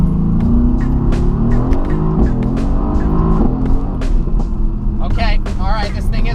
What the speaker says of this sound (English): Oh, those downshifts sound ridiculous.